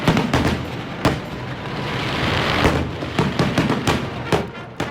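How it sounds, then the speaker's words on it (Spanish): Fireworks burst again and again during a Fourth of July celebration in New York, with dense crackling and booming blasts that overlap into a loud continuous barrage, sometimes rising into rapid clusters of sharp pops. "Los fuegos artificiales son a día de hoy uno de los principales símbolos de la festividad"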